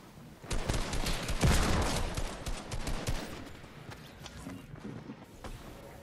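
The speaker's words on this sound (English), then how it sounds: "I'm getting shot up" Gunfire from a Fortnite battle royale match rattles in rapid bursts over busy game noise, with a dense, loud volley early on that thins into scattered shots and movement later.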